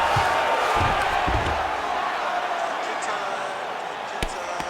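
Arena crowd cheering in a UFC 5 video game bout between Colby Covington and Joaquin Buckley, a steady roar of noise with a commentator's voice talking over it.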